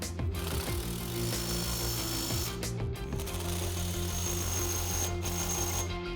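A wrench tightens jam nuts on a joint, giving a close, loud, steady run of ratcheting mechanical clicks and a grinding rattle that continues throughout.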